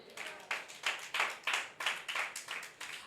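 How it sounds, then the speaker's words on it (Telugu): A church congregation claps in unison at a sermon, a rhythmic run of about a dozen bright, fairly distant claps in quick regular succession. "చప్పట్లు కొడదాం."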